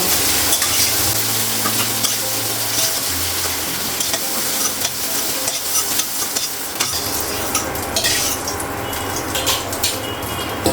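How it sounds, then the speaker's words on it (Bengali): Lentil dumplings (bori) frying in a pan, a constant close sizzle broken by repeated scraping and stirring of a utensil against the pan, with a low hum underneath early on. "বড়িটা একটু ভেজে নেব"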